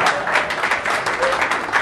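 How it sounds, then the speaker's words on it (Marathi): An audience claps through a Marathi poetry recitation, a dense, even patter of many hands at moderate distance, rising and falling slightly without pause. "हे टाळ्या वाजवतात तिकडे."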